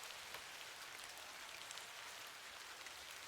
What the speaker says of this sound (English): I'm glad the rain doesn't put you off.